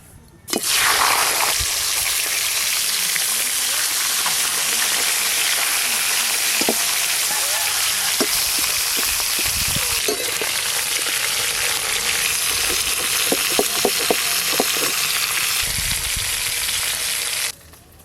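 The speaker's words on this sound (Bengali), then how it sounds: "সর্ষের তেল, তেল খুব ভালো করে গরম হয়ে গেছে। এবার ভেটকি মাছের কাঁটাগুলো ভেজে নেব।" Bhetki fish bones fry in well-heated mustard oil with a loud, dense sizzle that holds steady for nearly the whole stretch, broken by a few sharp utensil clinks against the pan.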